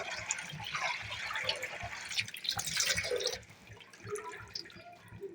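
Water splashing and dripping as jute leaves are washed by hand, a busy close wet rustle that eases into softer intermittent drips and splashes.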